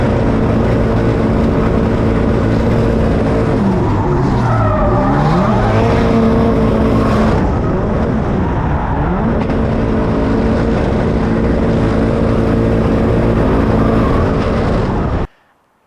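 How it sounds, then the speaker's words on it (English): A drift car sits bouncing off its rev limiter in fourth gear, a loud, sustained engine drone with rapid stuttering cuts and slight pitch swells, continuous for about fifteen seconds before stopping abruptly. "So just hanging the car off the rev limiter for like 30 seconds straight."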